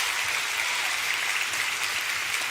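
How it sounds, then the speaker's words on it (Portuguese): A church congregation claps continuously, dense and steady applause filling the room with no pause. "Dá uma salva de palmas a Jesus."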